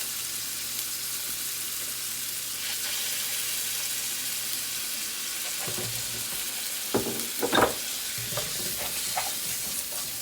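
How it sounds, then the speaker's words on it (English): Tomato paste frying in a pan, a steady close sizzle throughout, with a few brief scraping stirs and clatters near the end. "He would take tomato paste and he would fry it."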